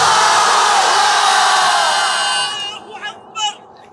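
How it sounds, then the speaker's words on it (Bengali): A large crowd of men at a religious gathering roars a takbir chant in unison, loud and sustained, then fading out into scattered shouts. "আমার প্রিয় সিঙ্গেল ভাইরা তাকবীর দেন"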